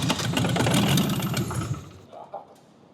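The diesel engine of a CJL-10 jeep cranks and catches, giving a loud, rough, rumbling chug that fades out after about two seconds, ending with a couple of faint knocks.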